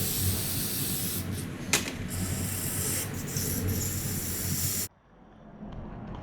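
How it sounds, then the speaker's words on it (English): An aerosol can of carburetor or brake cleaner sprays in one long, loud, continuous hiss onto an old motorcycle carburetor, with a brief sputter partway through, then cuts off abruptly into quiet room tone. "I'm gonna spray the dog snot out of it with the carburetor cleaner"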